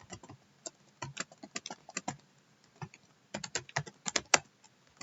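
Fingers type on a computer keyboard, quiet irregular clicking keystrokes in short bursts with pauses, close and alone without speech.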